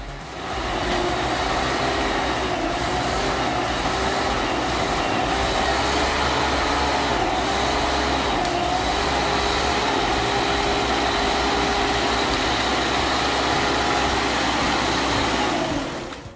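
A heavily loaded LKT81 turbo skidder engine roars continuously and loudly at close range, holding a steady, strained drone throughout.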